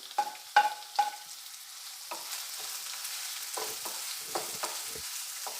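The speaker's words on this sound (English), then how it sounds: "Now I'm going to add onion" Medium onions sauté in a pan for Goan potato bhaji, a soft continuous sizzle with a few clinking stirs of a spoon against the pan early on, then quieter scraping.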